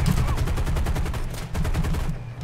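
Rapid machine-gun fire from a B-25 bomber in the War Thunder video game, a fast, loud, evenly spaced stream of shots that breaks off near the end.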